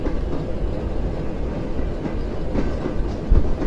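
A train in the zombie survival game Zompiercer rolls in reverse, giving a loud, steady mechanical rumble with faint rhythmic clacks and a heavier thump near the end, with no one talking.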